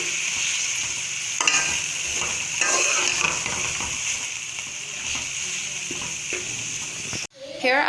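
Minced meat with onions and salt being stirred in a hot pan, with a steady close sizzle and frying hiss, scraping stir strokes throughout, and a brief clatter near the end.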